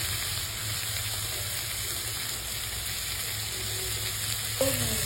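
A vegetable curry with chopped tomato, made for potoler dorma, fries in a pan with an even, steady sizzle and hiss, then a brief clink of a utensil near the end.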